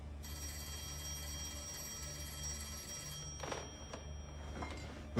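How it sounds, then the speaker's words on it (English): An old-fashioned telephone bell rings in a steady continuous trill in an indoor period drama scene, fairly faint, then stops, followed by brief rustling movements. "You should answer the phone, Mr. Shelby."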